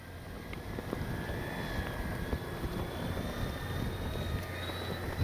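An E-flite D-18 twin-engine RC model warbird airplane flying, its engine drone a steady mid-distance hum with rising and falling pitch over continuous wind noise outdoors.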